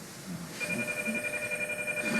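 A telephone rings in a domestic scene, a steady electronic tone trilling without a break for about a second and a half after a short quiet lead-in. No one talks.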